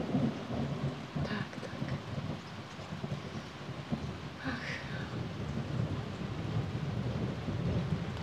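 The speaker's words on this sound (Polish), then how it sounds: "Gdzieś daleko jest mocna burza." A strong thunderstorm far off in the Warmia countryside, steady rain hissing throughout under low rolling thunder rumbles, with a few brief spoken words near the start.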